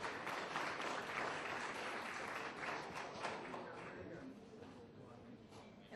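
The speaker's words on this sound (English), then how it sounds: "A round of applause, my friends, for Imran." An audience at a Vespa S scooter launch event claps for Imran Khan, a steady wash of applause lasting throughout at moderate distance.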